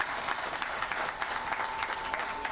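An audience applauds at an airport development groundbreaking ceremony, a continuous wash of many hands clapping, moderately loud and even throughout the short stretch.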